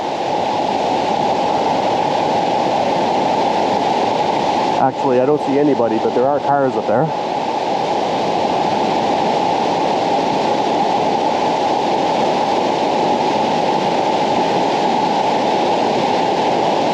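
A creek or small river runs steadily nearby, a constant broad rush of water that continues throughout while someone speaks briefly over it partway through.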